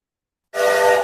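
A ship whistle effect for an animated cargo ship: after a half-second of silence, one loud, sustained, steady horn-like blast starts abruptly and holds to the end, close and alone.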